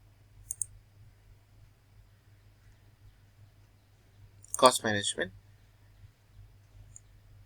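A single crisp computer mouse click near the start, made while navigating the Microsoft Azure portal, followed a few seconds later by a short burst of voice against a quiet background.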